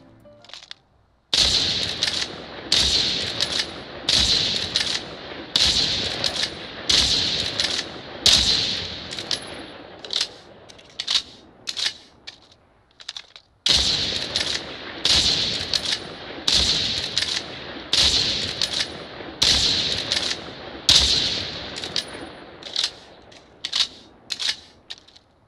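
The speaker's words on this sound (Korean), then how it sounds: "사격 버튼을 누름과 동시에 딜레이가 없는 총격음이 들릴 정도로" Video game gunfire heard through SoundBone SE01 bone- and air-conduction wireless earphones: rapid, loud bursts of automatic shots in two long volleys split by a brief pause, crisp and sharp throughout.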